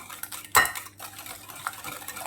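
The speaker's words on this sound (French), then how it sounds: "On va mélanger" Chocolate coconut cake batter is stirred in a bowl, with a sharp utensil clink against the bowl followed by soft scraping and mixing sounds.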